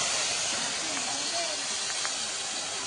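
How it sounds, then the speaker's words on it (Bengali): Crab fries in hot oil with salt and turmeric in a wok, giving a soft, steady hiss that runs unbroken for a few seconds. "কাঁকড়াটা আগে একটু ভেজে নেব"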